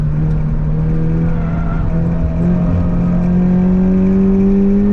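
A car on Queensland Raceway at full throttle during professional driver training, its engine a loud, steady drone with the pitch climbing slowly as it accelerates.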